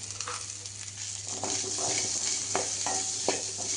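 Cumin and pepper fry in a pan for a fish curry, a soft, steady sizzle with small crackles and faint stirring scrapes under a low hum.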